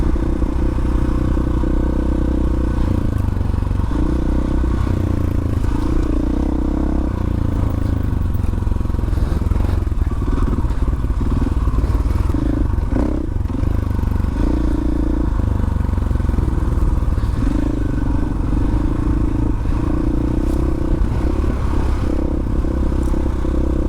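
A dual sport motorcycle, an FE501, 500EXC-F or CRF450L single-cylinder, is ridden at a constant pace with a loud, droning engine note. Wind noise and occasional clattering run beneath it without a break.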